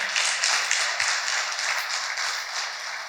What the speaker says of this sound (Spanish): Dale un aplauso, eso lo fuerte a él.